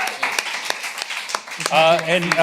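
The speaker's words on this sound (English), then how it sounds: "little applause for bunny puking" A handful of scattered, uneven claps from a small group pop up for a moment during a live April Fools' stream, followed by a voice speaking.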